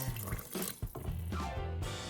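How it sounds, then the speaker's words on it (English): Six cups of tap water pour steadily into a pressure cooker holding spaghetti soup with ground tomatoes, a continuous close splashing stream with a brief break partway through. "the last thing I'm gonna add is about 6 cups of water"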